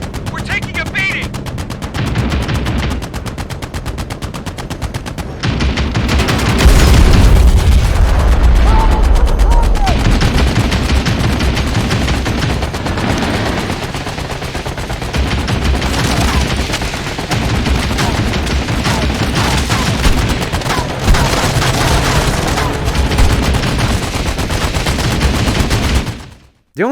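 Gunfire and heavy weapons in the VR combat game Medal of Honor, with sustained loud bursts of shots and booms rolling almost continuously; a voice speaks briefly early on.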